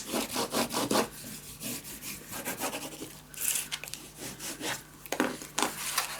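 Paper being burnished down by hand onto a scrapbook mini album, giving repeated dry rubbing and scraping strokes at close range, loud bursts in a steady back-and-forth rhythm with short pauses, no talking.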